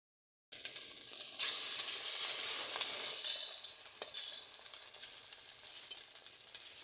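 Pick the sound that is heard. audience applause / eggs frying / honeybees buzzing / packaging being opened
eggs frying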